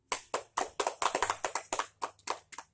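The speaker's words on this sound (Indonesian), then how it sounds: "Tepuk tangan untuk Iren." A classroom group claps in quick, close, rhythmic applause, about a dozen sharp hand claps in steady succession.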